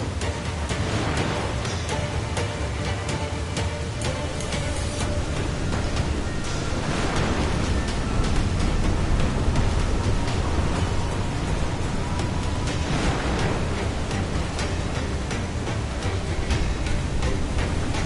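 A waterspout at sea in the Assassin's Creed Black Flag video game: constant rushing wind and crashing waves fill the scene as a loud, unbroken roar with periodic surges.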